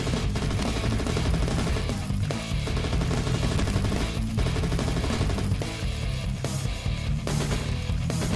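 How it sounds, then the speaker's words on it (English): Rapid weapon fire from a work-in-progress zombie shooter video game, dense bursts of gunshots and automatic fire packed over a loud continuous backdrop, with brief gaps between volleys and no speech. "Showcasing some of the weapons from a work in progress zombie shooter."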